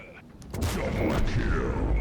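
In World of Tanks, the T54E1 tank's autoloading cannon fires a heavy booming shot that swells into a long rumbling roar, while someone talks over it.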